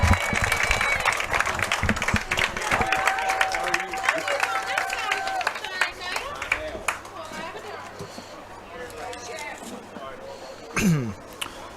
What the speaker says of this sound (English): Please give a round of applause for Reed Draper.